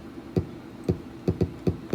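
Kick drum built from a cut-down fart sample of Trump, six short, punchy low thumps with quick decay hitting in an uneven groove, isolated and dry.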